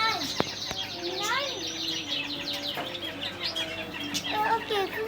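Many birds, parrots among them, chirp and whistle in a Dubai pet shop, with busy overlapping calls and sharp tweets close by, while a child and other people talk over them.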